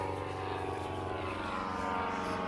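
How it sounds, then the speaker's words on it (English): Propeller airplane flying overhead outdoors on a summer day, a steady loud engine drone with a slowly shifting pitch, continuous throughout. "Airplane."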